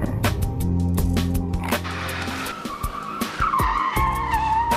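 A car skids on locked wheels under emergency braking, tires squealing loudly in long screeching bursts with rising and falling pitch, mixed with engine noise and thuds.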